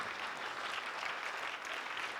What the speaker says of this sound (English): He needs applause.